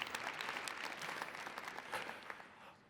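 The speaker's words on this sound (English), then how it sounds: "Please give yourselves a huge round of applause for making this conference such a big success." A large conference audience applauds in a steady, dense wash of clapping heard from a distance, fading slightly toward the end.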